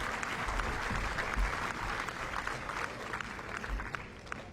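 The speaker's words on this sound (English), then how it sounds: "Huge round of applause." Applause from a tennis crowd at a professional match, Andreas Seppi against Sergiy Stakhovsky, fills the air as a steady, dense, near ovation that holds at an even loudness throughout.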